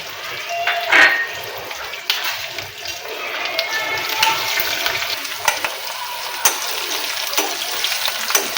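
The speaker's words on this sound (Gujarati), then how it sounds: "લસણ અને મરચાં સંતળાઈ જાય એટલે આપણે તેમાં ડુંગળીને એડ કરીશું" Garlic and chili pieces sautéing in hot oil with curry leaves in a pan, a steady soft sizzle punctuated by scraping stirs, close and fairly loud with no talking.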